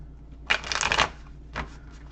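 Tarot cards riffled and shuffled by hand, a dense papery burst of about half a second followed by a shorter second shuffle, close and fairly loud against a quiet room.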